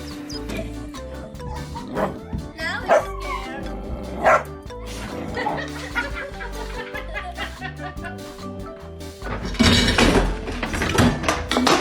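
A startled dog at home barks sharply in repeated yips and whimpers after a prank scare, close and loud, with bursts of laughter and chuckling mixed in, swelling louder near the end.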